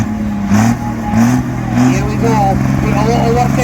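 A pulling tractor with a blue 401 cubic inch Ford engine revs loudly at a tractor-pulling event in Brechin, Scotland, its pitch rising and falling in repeated surges as an announcer talks over it.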